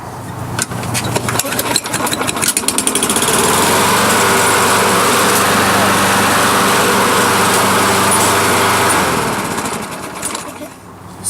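A self-propelled lawn mower engine runs loud and steady for several seconds, revving up from a start and settling into a sustained drone before tapering off near the end.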